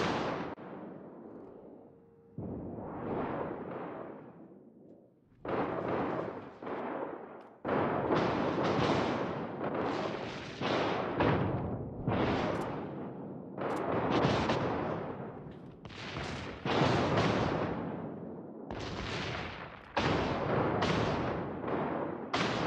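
Naval gunfire from warships in World of Warships, heavy booming salvos fired in rapid succession, loud and close, with rumbling decay between shots and nearly continuous barrages in the later part.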